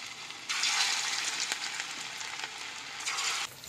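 Chicken pieces fry in hot oil in a kadai. A loud, steady hissing sizzle starts abruptly, holds for about three seconds, then eases off, with no talking.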